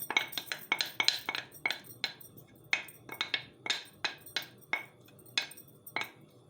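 A utensil stirs sauce in a wok on the stove, producing a quick irregular series of sharp metallic clinks and scrapes, close and fairly quiet with no talk.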